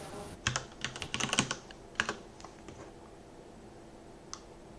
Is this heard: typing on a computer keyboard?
yes